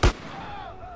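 One loud, close gunshot from GTA San Andreas, a single heavy blast that fades into a low ringing hum, with a second shot just starting at the end.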